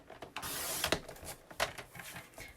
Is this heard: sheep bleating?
no